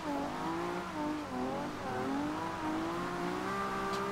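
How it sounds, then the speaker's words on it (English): A Nissan Skyline 2000GTR drifting in the Forza Horizon 2 racing game, its engine holding a loud, steady wail that rises and dips in pitch as it slides sideways, running continuously with no talk. "Car sounds absolutely insane."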